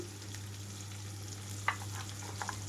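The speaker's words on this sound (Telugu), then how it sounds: "ఇప్పుడు ఇందులోనే కొన్ని కరివేపాకు రెమ్మలు కూడా వేస్తున్నాను." Curry leaves sizzle in hot oil in a pan with thick bajji chillies, a steady close frying hiss with a few small pops and crackles.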